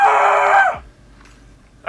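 A person screams loudly in VR Chat, one drawn-out shrill cry that drops off abruptly into quiet before another sharp burst begins.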